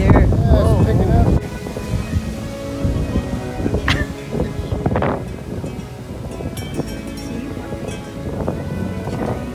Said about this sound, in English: Wind blowing here. Yeah, it's picking up.